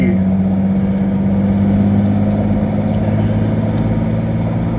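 A Nissan Z sports car drives along with its engine holding a steady, loud mid-pitched drone close by, without pauses or sharp revs.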